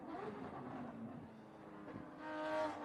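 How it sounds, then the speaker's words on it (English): A Porsche race car runs on a circuit at a vintage racing event, its engine a faint, distant drone that swells slightly as it approaches near the end. "Here comes the Porsche again."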